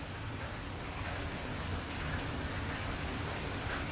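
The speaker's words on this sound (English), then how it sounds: "Hopefully you can hear the sound of the rain today." Steady rain heard through an open door, a faint, even hiss of falling drops with no voices.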